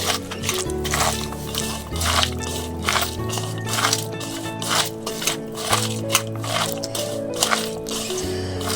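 Hands knead and squish vegetable pakora batter in a bowl, a close, wet, sticky squelching that repeats in an irregular rhythm with no talking.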